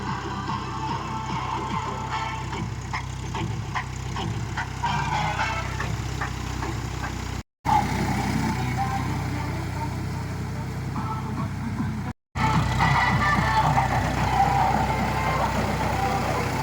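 A farm tractor idles outdoors in the morning with a steady, low, rumbling drone that holds even throughout, close by, broken by two brief cut-outs.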